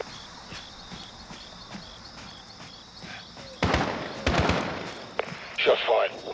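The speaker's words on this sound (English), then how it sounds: "Shots fired." Gunfire in Call of Duty Modern Warfare on PC, a dense burst of sharp shots and clatter after a quiet stretch of light ticking steps, loud and close, with more scattered shots following.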